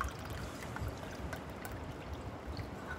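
A sour liquid pours into a cup in a soft, steady trickle, quiet and close, with a faint gurgling stream and no voices.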